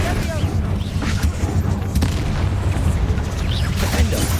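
A Confringo fire spell explodes in a wizard video game, a heavy, close boom with rolling rumble and scattered bursts that stay loud throughout.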